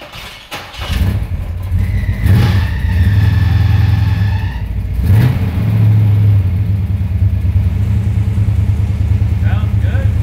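A 1968 car engine starts with a sharp catch, then idles roughly and revs twice in short loud blips, while people talk nearby.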